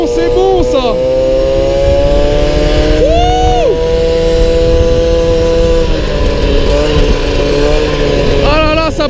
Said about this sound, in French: on va accélérer, tout doucement. Écoutez un peu le son, c'est bon ça.